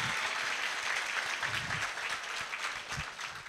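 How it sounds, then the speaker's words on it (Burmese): Sustained audience applause fills the room at an event in Myanmar, dense steady clapping from many hands, loud and continuous throughout with no voices over it. "လက်ခုပ်တန်လေးကြားချင်ပါတယ်ခင်ဗျာ"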